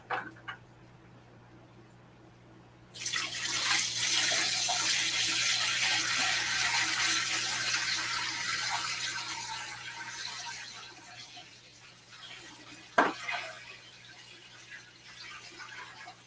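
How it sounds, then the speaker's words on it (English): Water from a bucket pours steadily into an aquarium during a water change. It starts abruptly after a quiet stretch, gushes loudly for several seconds and then tapers off, with a brief knock near the end. "gotta add the water"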